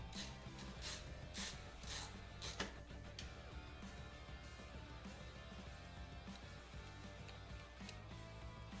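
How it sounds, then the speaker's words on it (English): Ratcheting screwdriver driving screws while a gaming PC is assembled, quick clicking ratchet strokes in short bursts over a dense, steady background hum, close but fairly faint. "No, it really is a great screwdriver, though."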